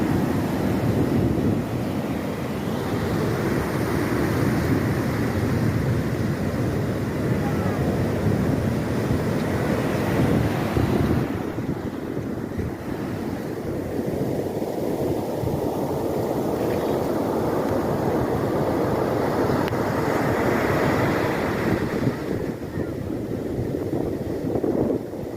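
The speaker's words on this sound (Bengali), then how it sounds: "বিভৎস ঢেউ, বিভৎস, আর সেরকম হাওয়া" Rough sea waves and strong wind on Puri beach during rain, a loud continuous roar of surf and buffeting wind on the microphone, surging and easing in long swells.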